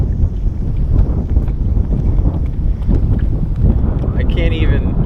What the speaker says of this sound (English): This freaking wind.